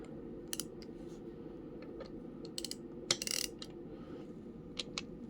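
A ratchet wrench loosens a fastener on a BMW S1000RR K67 engine during a rebuild. It gives sparse, faint metallic clicks and a couple of sharper clacks over a low steady hum, with no talk.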